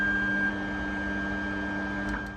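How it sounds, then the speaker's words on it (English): An Ender 3 Classic 3D printer homes its axes, its stepper motors giving a steady, close electrical whine with a low hum and no talk. "So it immediately starts homing, and it's going up and down and doing whatever it does"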